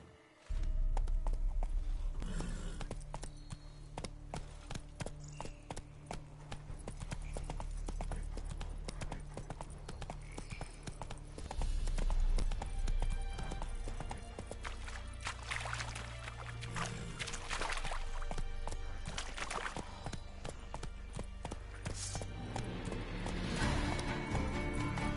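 Roach the horse trots in The Witcher 3, rhythmic clip-clop hoofbeats running steadily throughout with occasional whinnies, set against game music and ambient sound that is loud and continuous.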